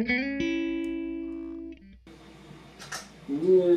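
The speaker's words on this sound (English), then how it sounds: "P90 and bridge, middle position on a tele is like the sickest sound to me" A Telecaster electric guitar with P90 and bridge pickups in the middle position, played through a Suhr Badger 30 amp, rings out a sustained, clean chord that fades. Quieter picked notes and a brief voice follow.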